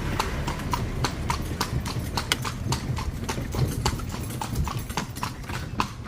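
Horse hooves clip-clopping at a steady trotting rhythm while pulling a carriage at a temple in Lampang, Thailand, close and continuous over road noise.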